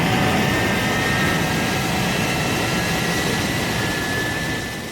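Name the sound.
Thunderbird 1 aircraft taking off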